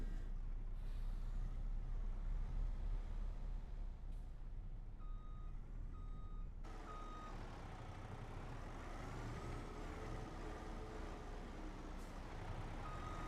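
A new truck in Farming Simulator 25 sounds steady electronic reversing beeps over a low idling engine rumble, with a hiss like an air brake partway through; fairly quiet, with no talk.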